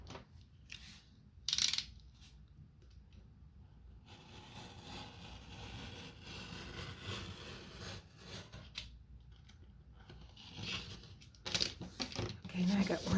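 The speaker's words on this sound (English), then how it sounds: "I'm just going to trim it off. Just trim the edge." Scissors trim the edge of a handmade two-pocket wallet, producing close, soft rustling cuts and crisp snips over a few seconds, with faint handling noise.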